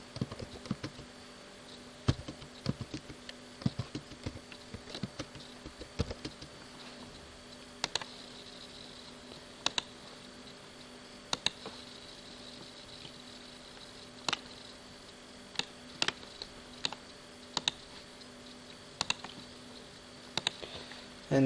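Scattered keystrokes on a computer keyboard while a password is entered, faint irregular clicks in uneven bursts over a quiet room hum, with no talking.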